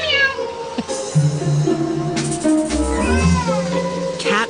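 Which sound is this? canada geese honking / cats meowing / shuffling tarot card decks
cats meowing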